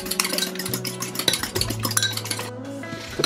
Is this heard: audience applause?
no